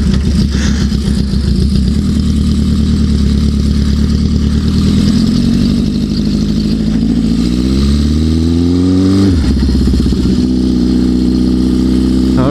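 A Honda CB750 motorcycle engine runs loud and close, chugging steadily, then its pitch sweeps upward as it revs before dropping sharply back toward idle; no talking.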